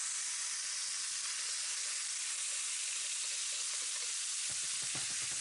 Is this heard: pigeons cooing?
no